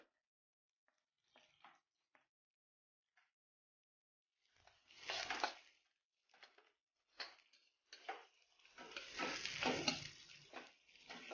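Onions sautéing in a pan for ginisang monggo, a Filipino mung bean stew, starting with faint scattered ticks and then building into a crackling sizzle that swells and stays fairly loud and close.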